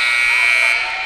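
A basketball game buzzer sounds in a loud, steady, high electronic tone that holds for about a second before easing off, dominating an indoor arena.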